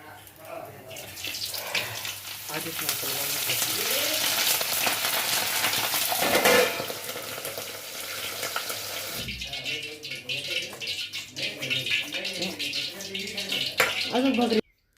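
Long village green chillies frying in hot oil, a loud, continuous hissing sizzle for most of the stretch, then quieter crackle with a person talking over it.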